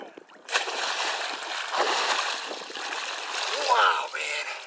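Someone splashes in cold lake water at Lake Mead, producing a series of close, uneven splashes and watery sloshes that swell and fade, while voices speak over them.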